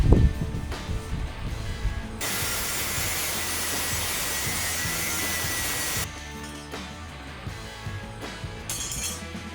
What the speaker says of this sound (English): There is no undoing them, so we're going to have to grind them off.